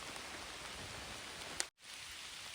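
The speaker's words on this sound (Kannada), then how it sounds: "ಮಧ್ಯಾಹ್ನ ಮೇಲೆ ಮಳೆ ಬರ್ತಾ ಇದೆ ಸ್ವಲ್ಪ ಗುಡುಗು ಸಿಡ್ಲು ಮಳೆ ಬರ್ತಾ ಇದೆ" Steady rain falling on a plantation of black pepper and arecanut, a dense, even hiss of drops throughout with a brief dropout near the end; no clear thunder stands out.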